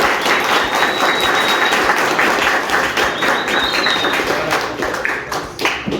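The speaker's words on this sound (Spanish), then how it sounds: "Un aplauso, por favor." An audience at an author interview event applauds, a dense, steady wash of clapping close and loud for several seconds that thins slightly toward the end.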